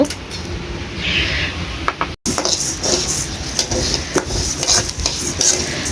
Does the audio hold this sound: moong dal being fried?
yes